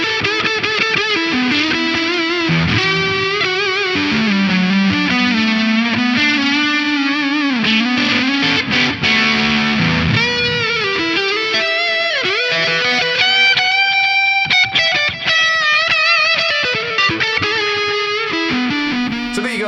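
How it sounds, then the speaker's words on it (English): An electric guitar runs through a Boss HM-2w distortion pedal with delay, playing loud, heavily saturated chords and melodic lines continuously, with trailing repeats smearing the notes. "So let's put some delay on and hear that"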